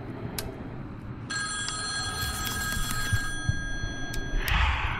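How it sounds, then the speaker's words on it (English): A telephone bell rings insistently in a horror video game, a bright repeating trill heard over a low ambient rumble, close and fairly loud with no voices. "don't pick up the phone."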